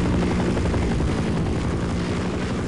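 Helicopter in the Half-Life video game making a strafing run: a dense, steady rotor-and-engine roar fills the scene at constant loudness throughout, with no talking.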